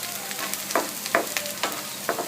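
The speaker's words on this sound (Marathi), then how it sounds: "लहान आकाराचा बारीक कापून घेतलेला कांदा कांदा चांगला तेलावर परतवून घ्यायचा" Finely chopped onion sautéing in hot oil for a green peas dish, a continuous crackling sizzle marked by a few sharp spatula scrapes, close and with no talking.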